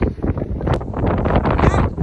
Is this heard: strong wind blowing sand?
yes